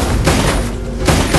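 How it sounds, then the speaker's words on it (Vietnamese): Gunfire from a character's gun in a video game rings out as two sharp bursts, one at the start and another just past the one-second mark, loud and up close with no talk. "nhân vật thứ ba có dùng súng nữa nè"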